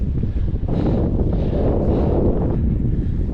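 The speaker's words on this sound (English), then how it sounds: "The headwind here is so mean." Strong headwind roars over the microphone throughout a bicycle climb up Haleakala on Maui, a continuous loud buffeting rush with no break.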